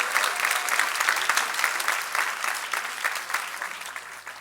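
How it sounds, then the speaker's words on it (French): A church congregation at a baptism celebration breaks into sustained, dense applause for Jesus, steady and fairly loud throughout with a few swells and no speech. "Est-ce qu'on peut acclamer Jésus pour ça, s'il vous plaît?"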